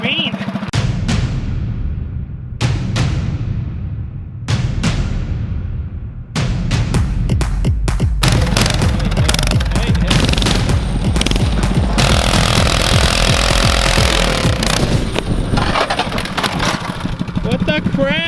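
A Predator small engine with a Stage 1 performance kit revs and sputters loudly, cutting in and out with sharp bursts before settling into a continuous harsh roar.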